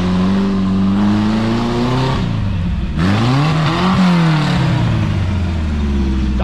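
A Toyota off-road vehicle's engine labours up a dirt trail, its loud, close drone rising and falling as the driver revs and shifts, with the pitch dipping midway before climbing again.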